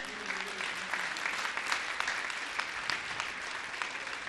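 A crowd applauding steadily, a dense wash of many hands clapping at even volume throughout, with no voices standing out.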